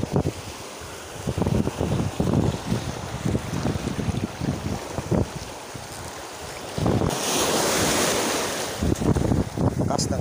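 A strong monsoon wind buffets the microphone on a small fishing boat at sea as waves slap and surge close by. The noise is loud and unbroken, with a heavier rush partway through.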